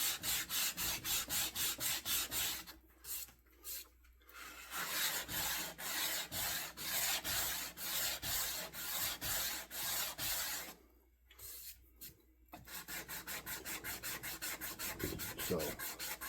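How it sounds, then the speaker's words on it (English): A wooden axe handle is sanded by hand in long rhythmic rubbing strokes, close and steady, with two brief pauses between bursts and no talk. "Sanding out all the imperfections."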